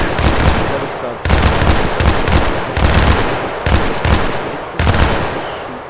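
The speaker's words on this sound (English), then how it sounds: "Shoot some bullets." Rapid automatic gunfire bursts in a VR tactical shooter game, five loud sustained volleys separated by brief gaps, close and dominant.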